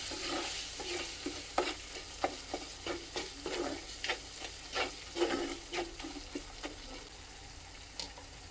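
Turmeric, chili powder and homemade spice mix frying in hot oil while being stirred, a soft sizzle broken by a dozen sharp scraping taps of the spoon against the pan at an uneven pace.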